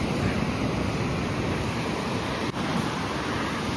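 A constant roar of stormy Black Sea surf and wind at Zatoka beach fills the air, dense and unbroken, like heavy waves churning along a shore.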